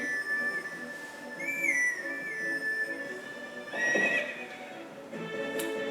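A horse in Zelda: Twilight Princess whinnies repeatedly with high, wavering neighs over faint hoofbeats, sounding clean and synthetic like game audio.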